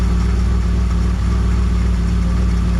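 A 1963 Mercury Comet with a 260 V8 and a carburetor due for rebuild idles close by, a loud, steady low rumble with an even pulsing throb and no change in pace.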